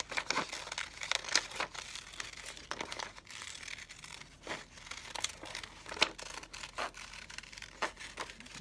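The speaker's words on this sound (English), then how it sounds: "Kind of wiggle your scissors back and forth to make like a little rough edge." Scissors snip and crinkle through paper while cutting out paper flowers, a steady run of close, crisp cuts and rustles with brief sharper snips, no talk.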